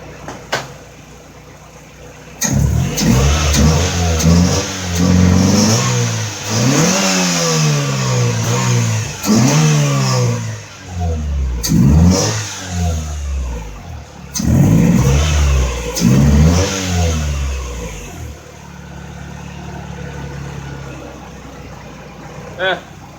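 A car engine revved repeatedly during a fuel injector test after a non-dismantle injector cleaning, loud rising and falling revs in several bursts with short idle gaps, settling to a low idle at the end.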